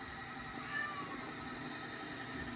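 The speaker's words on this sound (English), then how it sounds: "See, my kitty is saying hi too." A pet cat in a home kitchen gives a single faint, brief meow during a cooking lesson, heard over a steady low background hum with no talking.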